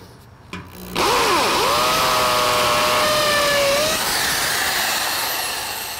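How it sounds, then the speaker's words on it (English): A cordless drill pre-drilling holes while framing a carport whines up to speed and holds a steady high buzz for a few seconds, then keeps running as the pitch drifts slightly, loud and close. "I'm gonna pre-drill the holes."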